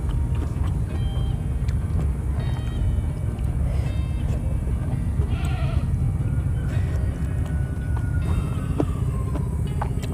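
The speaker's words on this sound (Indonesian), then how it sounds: "Suara kambing" Animals bleating at intervals over a constant low rumble of background noise, the calls fairly faint and scattered.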